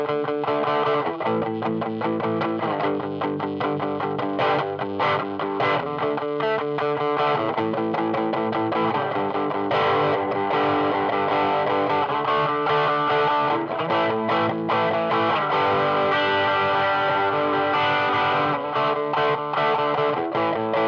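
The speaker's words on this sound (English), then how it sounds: "Starts to enter that sort of emo rock kind of territory, 90s, early 2000s kind of grungy, heavy distortion kind of tone." Electric guitar played through a Wampler Tumnus Germanium overdrive pedal set for heavy, grungy distortion, with loud, dense chugging chords and riffs in a steady rhythm throughout, no talk.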